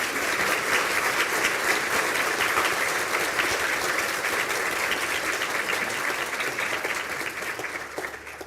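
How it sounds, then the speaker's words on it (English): A large audience applauds graduates of a Higher Diploma in Business Analytics at a Galway spring conferring ceremony, loud sustained clapping held at an even level throughout before gently easing off. "I ask the graduates of the Higher Diploma in Business Analytics to stand for a round of applause."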